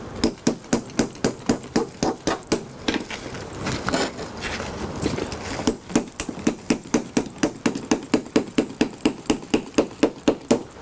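Rapid, regular hammer blows ring out close by, a steady train of sharp knocks with a brief irregular pause midway.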